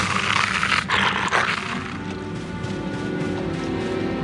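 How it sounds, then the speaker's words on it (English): A dog growls in the Harry Potter and the Prisoner of Azkaban video game, a low rough snarl that follows a sharp crash-like burst near the start and then trails into a dark game soundscape. "That sounded like a dog."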